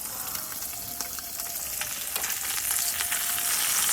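A fish head fries in hot oil seasoned with turmeric and salt, giving a steady crackling sizzle with sharp pops scattered throughout, growing slightly louder toward the end, with no voices.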